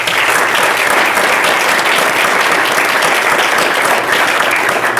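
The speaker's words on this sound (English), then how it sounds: "So a round of applause for them first." Loud, dense audience applause at a panel event, many hands clapping steadily throughout with no speech over it.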